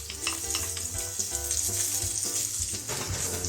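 Vegetables with garlic, garlic salt and herbs stir-frying in a pan, a bright continuous sizzle with scraping and clinking of the utensil as they are moved about, close and alone without talk.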